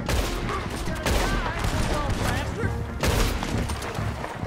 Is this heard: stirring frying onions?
no